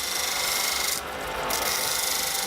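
A stone grinds against sandpaper in a homemade lapidary machine, a loud continuous rasping scrape with a short dip in the middle and no voices.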